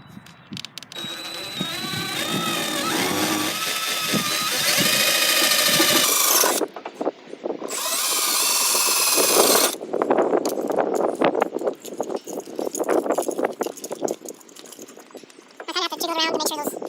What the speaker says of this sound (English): Now I'm going to start drilling. I got I call it a Christmas tree bit